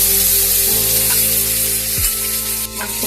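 Ground spice paste hitting hot oil already holding dried red chillies, bay leaves and nigella seeds for a Bengali potol posto, a steady close sizzle with a sharp burst as the paste lands and a second stir-like surge later.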